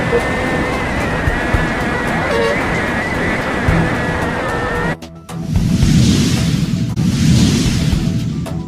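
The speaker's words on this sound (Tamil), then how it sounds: "கடல் உருவாங்கியதால் அச்சத்தில் மக்கள்" Sea waves surge onto the shore at Pamban as a steady, loud roaring wash, buffeted by wind. A brief dropout midway is followed by heavier, rumbling surf.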